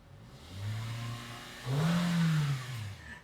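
A 2021 Toyota Yaris 1.2 Sport engine revs up twice, around 3,000 rpm and then past 5,000, rising in a smooth swell and falling back, the second rev louder and longer, with no talking.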